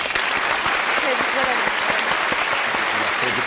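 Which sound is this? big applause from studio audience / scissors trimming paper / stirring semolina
big applause from studio audience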